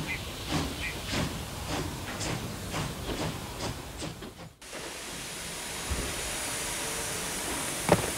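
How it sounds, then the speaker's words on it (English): Steam train hissing in the Western stealth game Desperados 3, a steady broadband hiss with rhythmic chuffing pulses that drops out briefly, then resumes as a continuous wash with a sharp clank near the end. "Everybody, on the train."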